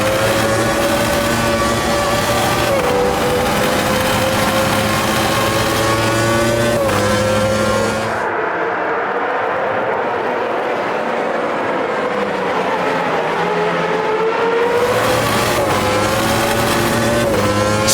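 Generic 1993-season Formula One cars, Benettons and a Ligier, racing in the AMS2 sim game: high-pitched engines screaming and shifting close by, fading briefly to a distant whine before roaring back loud.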